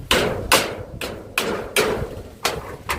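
Nails are driven with a hammer in sharp, loud blows, about seven strikes over a few seconds at a steady, slightly uneven pace, each with a quick decay, against faint background noise.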